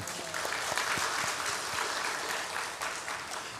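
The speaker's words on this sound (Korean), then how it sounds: "네, 박수하겠습니다." Church congregation applauding during a Korean Parents' Day service, a broad, continuous wash of clapping from many hands, fairly loud and sustained, with a few sharper claps standing out.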